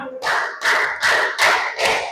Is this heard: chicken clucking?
no